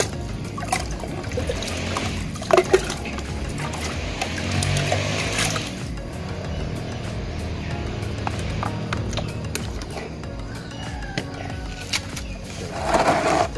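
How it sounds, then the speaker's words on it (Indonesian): Water poured into a planting medium mix prepared for grapes and other fruit plants, a steady trickling and splashing that runs through the whole stretch at a moderate level, with a few louder knocks and no talk. "kita masukkan air sebagai zat rata"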